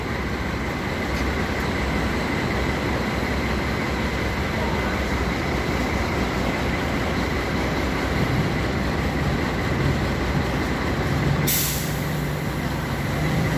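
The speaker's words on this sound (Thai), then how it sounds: "ตกใจเสียงรถดังเนาะ" A loud vehicle engine drones steadily while riding, a continuous heavy rumble and hiss with a brief sharp burst near the end.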